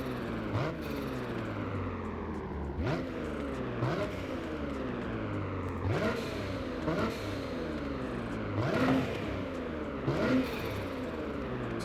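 A turbocharged car engine in Forza Horizon 5 revs up again and again in rising sweeps through repeated gear shifts, loud and close, with a whining turbo layer and no talk.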